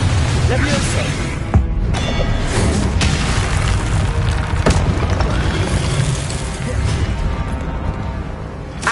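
Confringo blasting spells going off repeatedly in Hogwarts Legacy on PS5, a dense, loud wash of booms and crackling impacts over continuous game sound, with a few sharper pops standing out.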